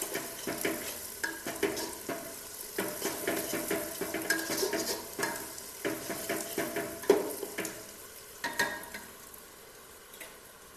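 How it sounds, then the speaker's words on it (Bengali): Chopped onions fry in a cooking pot for a country chicken curry, with steady sizzling broken by repeated scraping stir strokes, close and moderately loud, with no talking. "পেঁয়াজটা একটু লাল লাল করে ভেজে নিই"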